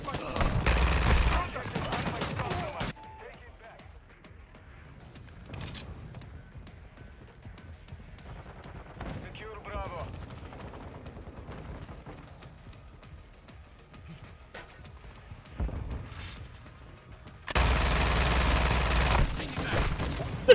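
Call of Duty gunfire in a team objective match: loud bursts of automatic fire open the clip, scattered shots and battlefield noise fill the middle, and another heavy volley erupts near the end.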